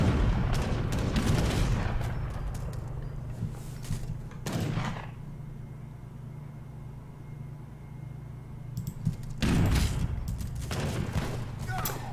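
Musket volleys and cannon fire from a video game battle with Gurkha troops, dense crackling gunfire in two loud bursts separated by a quieter stretch of softer battle noise.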